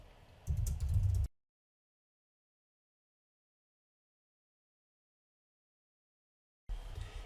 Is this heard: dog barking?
no